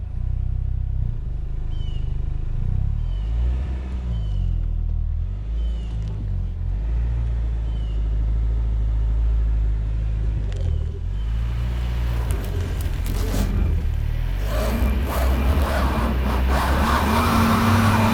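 A 2023 Kia Sorento X-Line SX-Prestige AWD grinds up an off-road hill, its engine droning low and steady up close, then rising and roughening with louder scrabbling and strain near the end.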